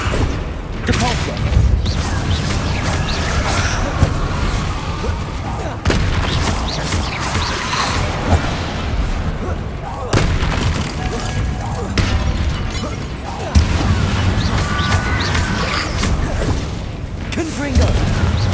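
Depulso force spells in Hogwarts Legacy strike as sharp, punchy booms at irregular intervals within loud, busy combat noise, with a voice speaking at times.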